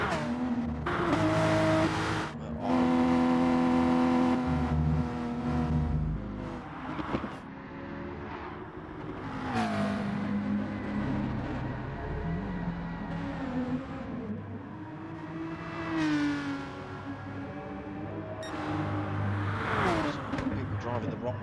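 Race cars in a racing video game at Autodromo de Interlagos, engines revving and shifting through gears with rising and falling pitch and some tire squeal, fairly loud and continuous, with a voice talking over the engine noise.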